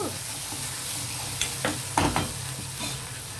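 Cashews and drumstick pieces fry in an oiled pan with turmeric, a steady close sizzle broken by a few sharp stirring scrapes and clinks midway.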